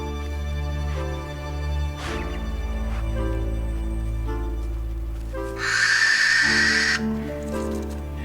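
A masked owl lets out a single harsh, hissing screech lasting about a second, loud over a steady low background hum and tonal music-like drone in an Australian forest setting.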